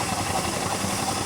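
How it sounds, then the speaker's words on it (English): A miniature 4-inch agricultural traction engine runs at a show, giving a steady low mechanical chug and rumble with a faint rhythmic knock, continuous and fairly close. "Next we have a 4-inch barrel agricultural engine,"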